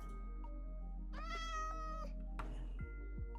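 A cat in the Minecraft video game meows several times, short clear tonal calls over a steady low game background hum, alone with no talk.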